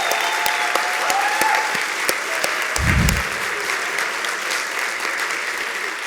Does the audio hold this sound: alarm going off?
no